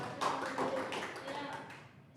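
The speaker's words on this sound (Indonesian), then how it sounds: "Kita tepuk tangan dulu Ibu" A classroom group claps together in a brisk burst of taps that tapers off, mixed with people talking.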